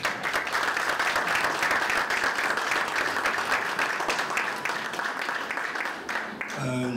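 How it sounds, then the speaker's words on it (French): An audience at a live show applauds steadily, a dense wash of clapping that holds for several seconds, with a voice briefly audible near the end. "Il mérite une bonne main d'applaudissement."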